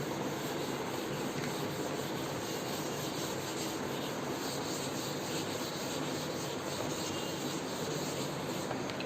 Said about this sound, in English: Now I am going to rub the board.